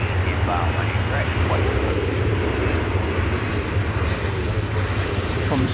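An American Eagle CRJ regional jet arriving at DFW Airport at daybreak, a steady broadband engine roar that stays loud and constant throughout, with faint talk underneath.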